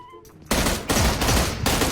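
Shotgun fire in the mobile battle-royale game PUBG Mobile: a loud blast cuts in after a quiet start, followed by further dense bursts of gunfire filling the rest of the short stretch, with no talk over it.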